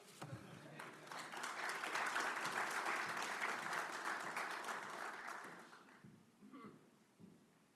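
An audience at a mass timber construction presentation applauds to welcome a speaker, steady sustained clapping that swells quickly, holds for several seconds, then fades out with a few scattered last claps.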